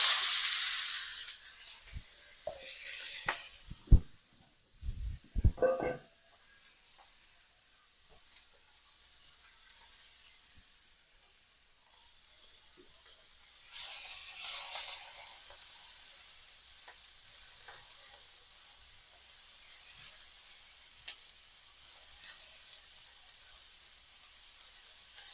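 Broccoli and other vegetables stir-frying in oil make a faint, steady hiss and sizzle, broken early by several sharp clatters of utensils against the pan and a louder surge of sizzling midway.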